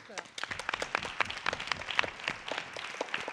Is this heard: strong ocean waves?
no